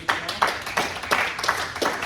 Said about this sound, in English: Clap it up for my readers